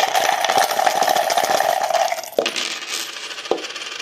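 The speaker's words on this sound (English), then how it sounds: "Let's shake the coins, see what they say." A handful of coins (quarter, dime, nickel and penny) rattle and jingle as they are shaken together, a dense metallic clatter close by for about two seconds, then a couple of single clinks as they settle.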